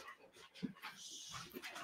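A dog whimpers softly and pants in short breathy bursts, with one brief low whine, fairly faint and close by, amid household background noise.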